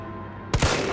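Gunfire in the Resident Evil 3 Remake demo, a sharp burst of two or three close, loud shots that start abruptly midway and ring out over low game ambience.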